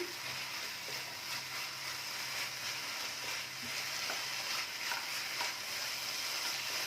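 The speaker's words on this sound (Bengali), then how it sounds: "ভালোভাবে নাড়াচাড়া করে নিচ্ছি" Paan ladoo mixture gets stirred in a pan over a medium gas flame, making a soft, continuous low sizzle with gentle scraping strokes at a fairly quiet level, with no voices.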